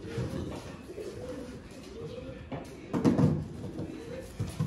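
Around 70 pigeons coo softly in low, rolling murmurs, several calls overlapping with a louder burst midway, heard at close range in a quiet space.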